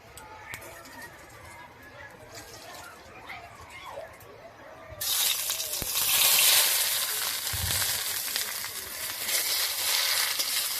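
Bottle gourd hitting hot oil with a bay leaf in a pan bursts into loud, broadband sizzling midway, after a quieter stretch of faint frying crackle.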